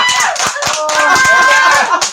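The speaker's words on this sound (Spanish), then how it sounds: "aplaudamos. Hay que aplaudir." Studio crowd on a Spanish-language talk show claps together in a loose beat, sharp hand strikes over ongoing speech and laughter.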